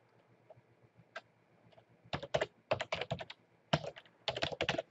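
Keys clatter on a computer keyboard as text is typed, starting with a few scattered taps and then building into quick, close bursts of clicks with brief pauses between them, and no one speaks.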